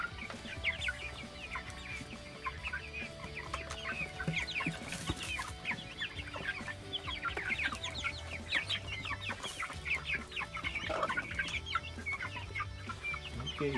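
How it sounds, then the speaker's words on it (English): A mother hen and her three small chicks cluck and peep on the ground at night. The soft clucks and rapid, high chick cheeps run continuously and overlap at moderate loudness, with no speech. "there's Mama Hen with her three little chicks"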